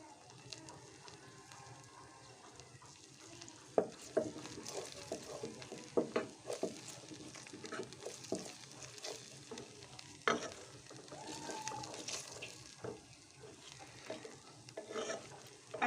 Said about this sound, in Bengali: এগুলো ভালো করে ভেজে নিচ্ছি